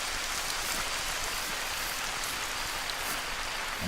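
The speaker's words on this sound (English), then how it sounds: "And this rain, awesome." Steady rain in theHunter: Call of the Wild, a dense even hiss of drops falling on the ground and foliage, constant and moderately loud with no voices.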